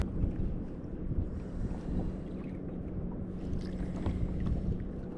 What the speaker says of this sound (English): It's real windy today